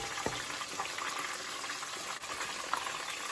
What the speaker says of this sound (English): So here I'm just melting the cheese into the butter.